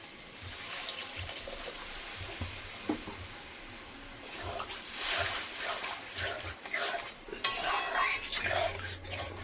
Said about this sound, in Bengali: কাবলি চানা দিয়ে দেবো, মশলার সঙ্গে মিশিয়ে নেব, জল দিয়ে দেবো।